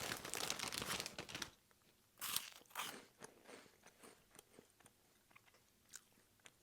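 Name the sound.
biting and crunching cheese pizza flavored Cheetos Puffs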